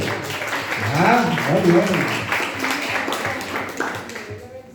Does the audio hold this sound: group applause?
yes